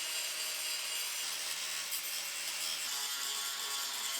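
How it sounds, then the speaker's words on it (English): Grinder cutting off welds and flattening frame rails on a 1965 Mustang body being fitted to a 2015 Coyote chassis, a loud, continuous, harsh abrasive rasp close by with no talk. "So now we can grind off the rest of it."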